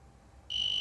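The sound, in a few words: beep of a homemade broken-cable detector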